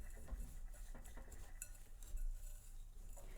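A spoon stirs a yogurt dessert mixture in a bowl, giving soft, steady scraping and occasional light clinks of utensil against the dish. The sound is quiet and close, with no talking.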